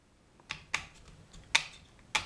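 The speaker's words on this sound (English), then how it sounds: "Whenever you cut hardware cloth, always keep your snip to one side of the grid square that you'll be cutting up." Snips cutting hardware cloth wire mesh to build an armature for a concrete sculpture: four sharp, crisp metallic clicks spaced about half a second apart, close and clear with no talking.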